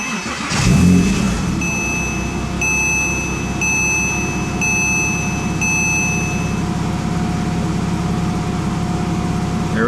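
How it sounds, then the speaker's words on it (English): A 2006 Porsche Cayman S engine starts with a brief rev, then settles into a steady, loud idle while a chime beeps intermittently in the cabin. "let's turn the car on and see if the idiot lights went away"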